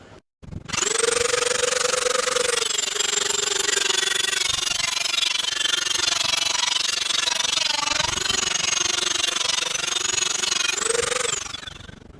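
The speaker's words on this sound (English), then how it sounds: "So, a back on the grinder," An angle grinder cuts through a rusted bolt on a car, a loud sustained high whine and grinding rasp running almost continuously for about ten seconds, with pitch dips as the disc bites and spins back up.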